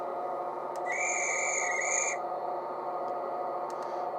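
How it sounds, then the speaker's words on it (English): A guard's whistle from a Dapol Class 68 model locomotive sound decoder sounds as a single steady, shrill tone of just over a second above the constant hum of the idling engine. "F9 is the guard's whistle."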